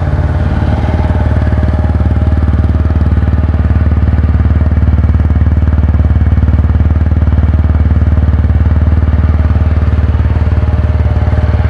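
A 2024 TVS Apache 160 4V fuel-injected motorcycle with ABS idles steadily up close, its engine note loud and continuous with a low rumble and mechanical clatter throughout, no voices over it.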